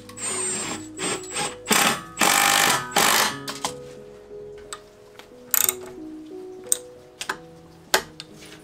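Bolting together a park bench of metal and pine: sharp metallic clicks, ratcheting ticks and clanks in irregular bursts, close and fairly loud, with no talking.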